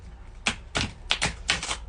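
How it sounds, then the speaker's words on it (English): Tarot cards are shaken and shuffled by hand in a handful of quick, crisp riffling bursts with short pauses between, close and fairly loud. "Let's do a little really good shake on these cards."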